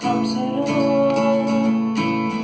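A guitar strums through a short chord progression, the chords changing every second or so, played close and steady without any talking.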